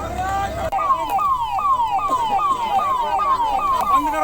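Ambulance siren at a rescue site where a pit was dug to save a child, loud and close, wailing in a fast repeating rising-and-falling cycle, likely with faint voices underneath.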